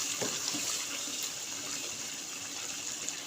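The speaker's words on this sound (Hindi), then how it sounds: "एक गरम खौलता हुआ जो पानी है 1 कप हमने ये इसके अंदर डाल देना है।" A cup of boiling water is poured into cooking vegetables, cauliflower and carrots for a vegetable korma, giving a close, steady splashing gush for a few seconds with no talk.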